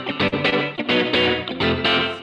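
An electric guitar played through a Fender amp with the reverb size turned all the way down gives short, dry, distorted chords in quick bursts, loud and close with almost no tail.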